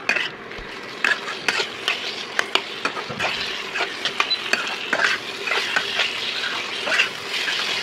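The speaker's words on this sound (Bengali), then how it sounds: "অল্প একটু জল দিয়ে দিয়ে আলুটাকে কষে নিতে হবে" Cubed potatoes are stirred and sautéed in a pan of fried spice paste with a splash of water, for a Bengali katla fish curry; a steady sizzle runs throughout, broken by frequent sharp scrapes and clacks of the spoon against the pan.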